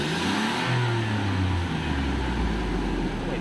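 A car engine runs steadily after maintenance, a continuous low rumble that shifts pitch early on before settling into a smoother, quieter idle, with no talk.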